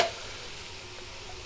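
Onion frying with spices in a pan at a restaurant kitchen gives a quiet, steady sizzle, heard alone and briefly after a faint initial clatter.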